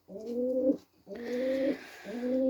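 A pigeon coos close by in three drawn-out, throaty calls separated by brief pauses, with a faint airy hiss behind the later calls.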